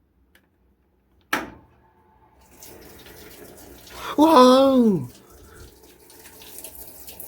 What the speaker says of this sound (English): The water is coming!